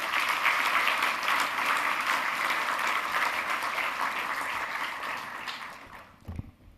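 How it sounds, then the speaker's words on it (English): An awards ceremony audience applauding, dense sustained clapping from a large crowd that fades away toward the end. "maybe let's give them a round of applause."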